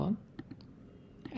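A few light, faint clicks of a computer mouse sounding under soft speech, with a couple of quick taps near the start and end.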